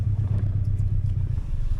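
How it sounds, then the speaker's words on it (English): A 2003 Mini Cooper engine idles with a throaty, steady low rumble through a big hole in its exhaust, close by and alone with no talk. "Pretty throaty back there with the big hole in the exhaust"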